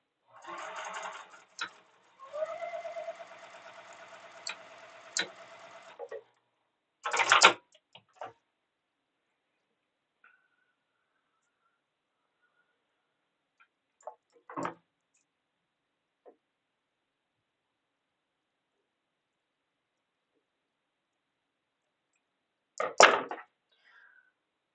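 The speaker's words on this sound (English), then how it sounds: "let's go ahead and get this sewn up together into one long strip" A sewing machine stitches fabric pieces into one long strip, running in a steady whirring burst for several seconds, then falling quiet apart from scattered clicks and ticks of handling the machine.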